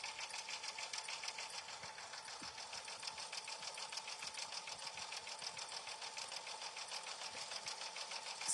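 A sewing machine runs at a slow, steady pace while stitching a quilted mug rug, its even mechanical chatter faint and continuous with no talk.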